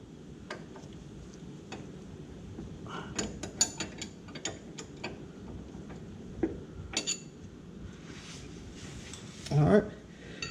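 A ratchet tightens down a steering wheel play adjustment, giving close, irregular clicks in short bursts with a louder cluster of clicks near the end.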